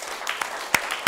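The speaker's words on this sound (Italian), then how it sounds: "Anche se sono forlivese, un applauso a Ivana." An audience applauds in a short burst of scattered claps, fairly close and moderately loud.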